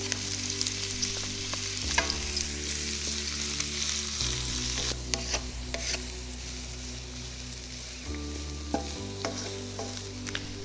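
Brussels sprouts and bell peppers frying in a pan, a continuous close sizzle with occasional stirring scrapes and a low steady hum underneath.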